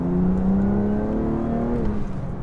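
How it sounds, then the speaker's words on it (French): A BMW M2 Competition engine with a new exhaust line revs loudly and steadily for a couple of seconds, its raspy, rising drone close and continuous, then easing slightly at the end. "avec la nouvelle ligne d'échappement, le son est beaucoup plus rauque"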